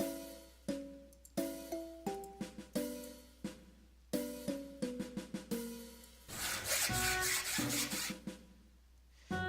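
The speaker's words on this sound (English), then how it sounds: "used the hacksaw to cut through the bedpost instead of your leg" In the Space Quest video game, a hacksaw cuts through a bedpost. A chiming run of synthesized notes gives way to a few seconds of harsh, rasping sawing noise, then the notes resume.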